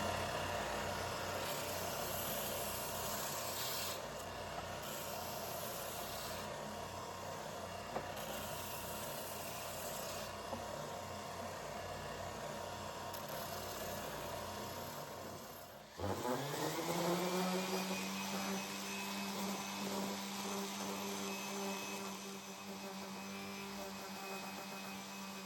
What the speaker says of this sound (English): now moving to this sander.